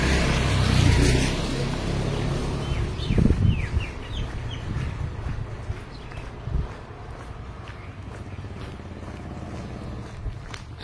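Chicken clucking and a rooster call amid a noisy outdoor scene beside floodwaters, with steady rumbling background noise and passing traffic, the bird sounds moderately loud and intermittent.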